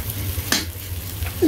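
Sweet pumpkin fries in a pan with a steady, close sizzle of hot oil, a sharp stirring scrape partway through and a brief bump near the end.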